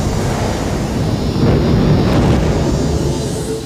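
A supernova explosion rendered as a steady, roaring wall of low rumble and hiss that swells slightly midway and holds loud throughout, with no voices.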